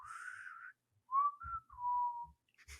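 Someone whistles a short, soft melody in a few separate phrases, close by in a quiet room.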